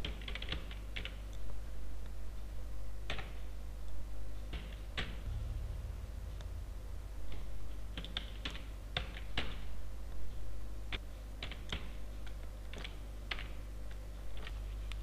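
Keys clatter on a computer keyboard as an address is typed into a school presentation slide, irregular clusters of close, crisp clicks with short pauses over a low steady hum.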